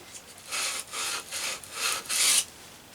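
A rusted blade from a Faithfull No 4 hand plane is scrubbed clean in about five steady back-and-forth strokes, each a close, raspy rubbing burst separated by short pauses.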